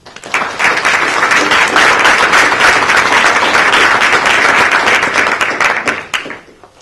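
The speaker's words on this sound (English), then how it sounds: "Please thank those people that are resigning from those positions by a round of applause, please." A school district board meeting audience applauds, a steady burst of many hands clapping that starts abruptly, stays loud and even for several seconds, then fades out near the end.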